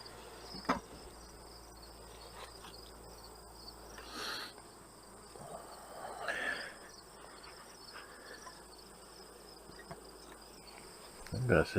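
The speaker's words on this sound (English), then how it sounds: "Well, that's a box of bees." Honey bees in an opened hive box give a soft, continuous buzz close by, with occasional louder passes of single bees, faint rustles and clicks, and no talk.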